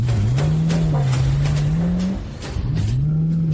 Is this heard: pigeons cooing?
no